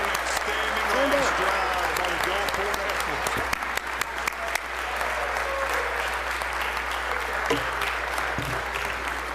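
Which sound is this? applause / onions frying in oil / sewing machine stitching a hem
applause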